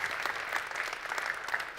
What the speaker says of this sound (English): Let's give an applause, Sir Ngozi.